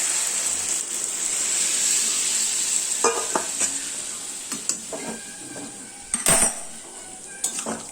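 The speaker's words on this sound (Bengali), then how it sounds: "গরম জল দিয়ে দিলাম।" Hot water goes into a pot of moong dal, raising a steady bright hiss and sizzle while metal utensils clink and scrape against the pot in scattered knocks.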